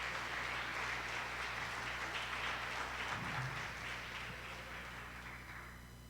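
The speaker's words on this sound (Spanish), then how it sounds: "Denle un aplauso al Señor porque Él se lo merece todo." A church congregation applauding during a sermon, broad steady clapping that holds through the whole span and slowly fades toward the end.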